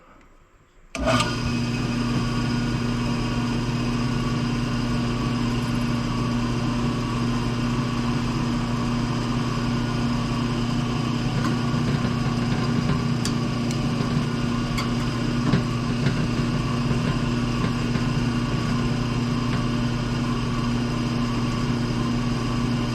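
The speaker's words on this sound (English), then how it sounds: "we're going to drill our holes in here" A power drill starts abruptly and then runs in a steady, unbroken high whine while drilling holes in a harpoon knife handle, close and fairly loud.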